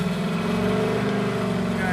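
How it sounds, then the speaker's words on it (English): Engine of a Datsun-based Rotsun project car revving, a steady droning hum held close and loud throughout the short stretch. "Go ahead and rev it."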